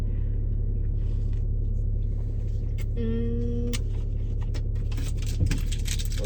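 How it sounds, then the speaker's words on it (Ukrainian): A car drives along with a low, steady engine rumble and road noise, close and continuous, with a brief tonal whine partway through and no talking. "машина їде, їде, їде"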